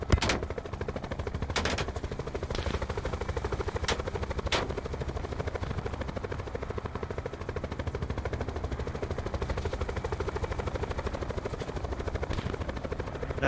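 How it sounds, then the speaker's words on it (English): Rapid automatic gunfire in a Call of Duty Black Ops match, with dense, continuous bursts over a droning helicopter-like hum and a few louder sharp reports near the start. "That's crazy how fast everybody is shooting you."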